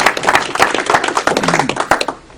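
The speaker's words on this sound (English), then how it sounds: "Let's give him an applause" An audience applauds a speaker during a lecture on the District of Columbia Act of 1871, with loud, close, irregular clapping from a small group that fades out toward the end.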